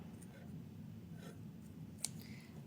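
Scissors snip crochet yarn once, a brief soft click near the end of a quiet stretch of faint handling noise.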